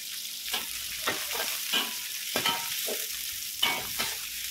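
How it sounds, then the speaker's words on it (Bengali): Chopped onions fry in hot oil while being stirred, giving a soft, steady sizzle broken by repeated scraping and stirring strokes, close and moderately quiet with no talk. "পেঁয়াজটা ভেজে নেব।"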